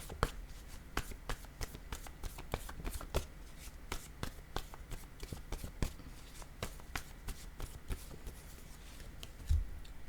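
Paper word cards are shuffled and flicked by hand in a quick, steady run of soft snapping riffles, close and fairly quiet.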